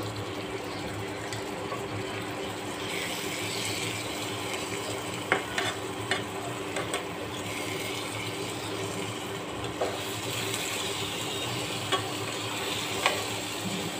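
An egg dish frying in a pan is stirred just after cumin powder goes in, giving a steady close sizzle with a few soft scraping clicks and no talking.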